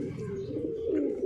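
Large Indian Bajre and Tonk high-flying pigeons coo close by in a continuous low, throaty murmur, with several birds sounding at once and no voices over them.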